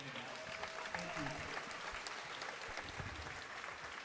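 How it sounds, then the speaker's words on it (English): A crowd in a school gym at a basketball game gives a sustained round of applause for senior athletes and their parents. Voices and cheers mix into the even clapping throughout. "Please join me in a final round of applause for all of our senior student athletes and their parents."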